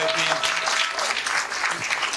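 Applause from a conference audience in Ohrid, greeting students at SEEDIG 2017 closing remarks, a dense steady clatter of many hands filling the whole stretch, with faint voices mixed in.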